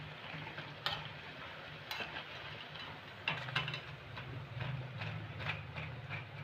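Pumpkin fritters fry in hot oil, a steady low sizzle with a few sharp clinks and scrapes from a utensil stirring or lifting them, no talking.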